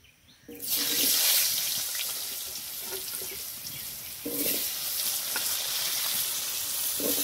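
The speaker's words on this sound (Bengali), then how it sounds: "মাছ ভাজা তেলে আলুগুলো ভেজে নেব।" Potatoes hit hot oil left over from frying fish and set off a sudden sizzle that runs on steadily and close up, with a few small clinks and no voices.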